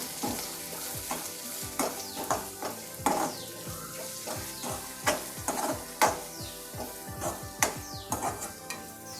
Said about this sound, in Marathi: हे बेडकी मिरची पावडर आहे, परतून घेऊया